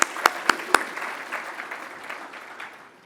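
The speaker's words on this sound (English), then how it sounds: "Let's give the Service Excellence in Administrative Services people an applause" A few sharp, close claps open the applause at a service excellence awards ceremony, then a broader round of audience clapping follows and gradually thins and fades.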